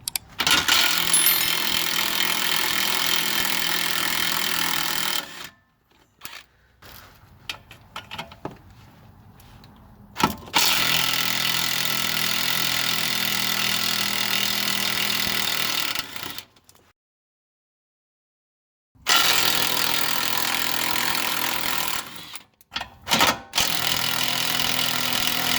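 Three long, loud whirring bursts of a power tool spin off 13mm nuts from the lower control arm of a 1998-2011 Ford Ranger during shock replacement, separated by quiet gaps with small metallic clinks and handling noises.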